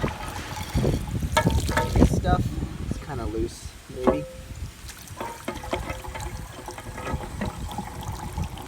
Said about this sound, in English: Try and get some water through there just to flush it out.